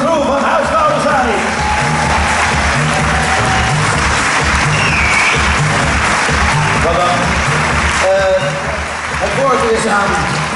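Loud, dense applause from a film premiere audience for the cast and crew, sustained and close throughout, with cheering and voices mixed into the crowd noise.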